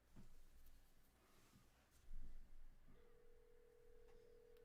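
A phone call being placed: a few short dialing tones followed by a steady electronic tone holding on, faint against a quiet room with light background knocks.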